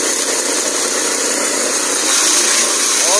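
A T16 brush-clearing machine's engine runs loud and close, a steady broadband drone that swells slightly near the end.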